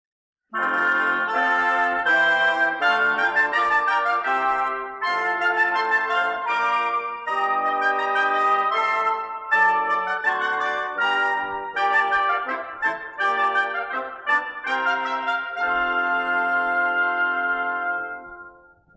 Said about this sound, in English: Together, the woodwind section sounds like this.